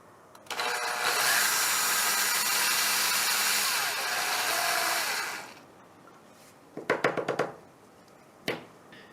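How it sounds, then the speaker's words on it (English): A steady, loud drill whine runs for several seconds drilling plaster out of a feed hole in a DIY air-bearing pad, then stops, followed by a few short bursts of grinding and clatter. "After drilling out the plaster from the feed hole on the side"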